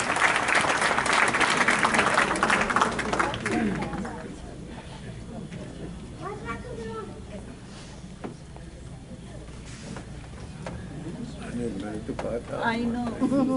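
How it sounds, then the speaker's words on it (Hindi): Audience applause greets Ilham Chishti, a clinical psychology lecturer, at an Urdu Academy classical music gathering; loud clapping fills the first few seconds, then thins into room murmur with voices talking. "आइए इस्तकबाल कीजिए भरपूर तालियों के साथ इल्हाम चिश्ती"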